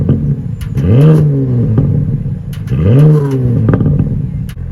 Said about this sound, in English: I loved all those pops and bangs and a burble.